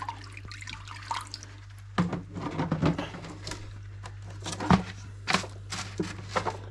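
Eheim 1200XL aquarium filter media from a large discus tank being swished through water, giving close, uneven splashes and sloshing drips in short bursts over a steady low hum.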